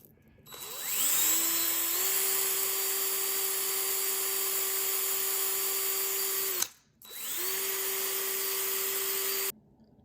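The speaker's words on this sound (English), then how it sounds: "give the axles a little polish with some 600 coarse sandpaper in the drill" A power drill whirs steadily at high speed for several seconds, polishing model car axles against 600-grit sandpaper, stops briefly, then spins up again, a loud close mechanical whine with no talking.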